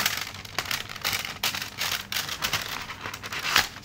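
Registered-mail paper crinkles and rustles up close, with scattered crisp crackles and a few sharper tearing-like snaps, no voices.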